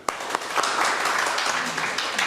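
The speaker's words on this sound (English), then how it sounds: "I would like you to clap for Mr. Guddu's team." A classroom audience claps for a team of students in an English practice session, a short burst of scattered applause with a few sharp individual claps standing out.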